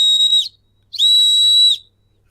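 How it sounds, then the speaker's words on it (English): A whistle is blown twice: a short, shrill blast and then a longer, steady one about a second later, loud and close with nothing else behind it. "Well, OG blowing the whistle."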